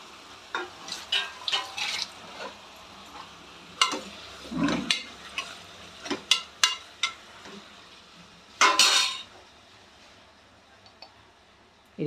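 Chicken gizzards fry in a pan and get stirred with a utensil. Irregular scrapes and clinks sound over a soft, steady sizzle, with one louder clattering burst near the end.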